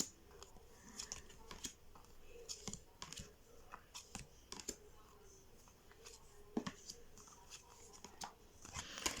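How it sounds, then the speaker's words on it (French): Oracle cards being shuffled by hand, soft close riffling and slapping of card stock in irregular bursts, quiet and intimate, with no speech over it. "Alors, je vais les mélanger et en tirer une."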